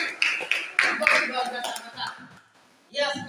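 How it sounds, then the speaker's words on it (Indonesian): Audience applause at a group presentation event, several short bursts of clapping mixed with talk, fading toward silence before a final burst. "tepuk tangan"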